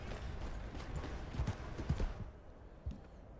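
Horse hooves clip-clop at a steady walking pace in Red Dead Redemption 2, a moderately loud rhythm of soft thuds over a constant outdoor ambience, with no talking.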